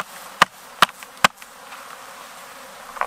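Honeybees hum softly and steadily at an open beehive, broken early on by three sharp clicks spaced evenly apart and a fourth click at the very end.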